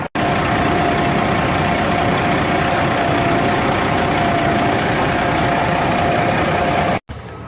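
A Peterbilt 387 truck hooked to its trailer idles at the yard with a loud, steady diesel rumble. It runs evenly and close, with no talk, then cuts off abruptly near the end.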